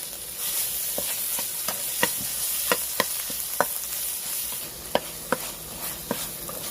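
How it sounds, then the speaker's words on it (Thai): Chili paste is stir-fried in a pan with a constant soft sizzle, and a utensil scrapes and taps the pan in irregular sharp strokes, heard close with no talk. "พอผัดพริก ให้สีเข้มแล้วนะครับ"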